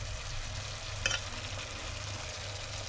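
Spicy salmon with black bean sauce simmers in a pan, a soft, steady bubbling sizzle heard close and alone, with a couple of faint utensil clicks.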